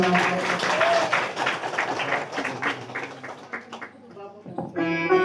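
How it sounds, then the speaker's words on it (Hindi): An audience at a devotional Hindi religious discourse claps in a fairly steady rhythm, moderately loud, with a voice and some tonal sound heard alongside toward the end. "बजाओ ताली"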